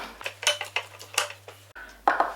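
A spatula scrapes down the sides of a Thermomix bowl during beef and mushroom stroganoff prep, giving a series of short, close scraping and tapping strokes in an uneven rhythm, with no talking.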